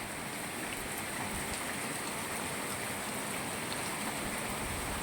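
Heavy monsoon rain pours down in Gujarat, a dense, steady hiss of drops on surfaces that stays constant and loud without pause.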